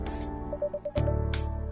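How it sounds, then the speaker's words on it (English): A phone rings in the video game Coffee Talk as a short run of repeating electronic beeps, then a soft chime, set against quiet background music. "this phone's going off."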